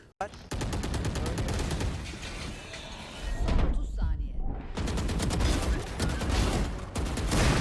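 Rapid gunfire bursts from the tactical shooter Valorant, loud and dense with repeated automatic volleys and a short lull midway, mixed with game effects.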